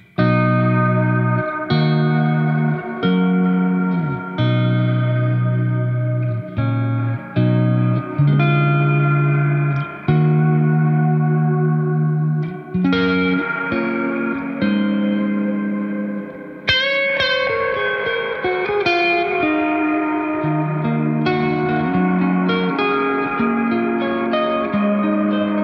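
Electric guitar played through a Game Changer Audio Light spring-style reverb pedal, with sustained chords and single notes ringing out in a wet, distorted wash, loud and close, alone without talking.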